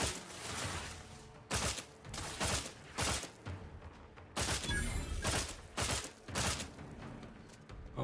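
Rapid bursts of gunfire from The Outer Worlds 2 video game, several loud volleys separated by short pauses, with no talking over them.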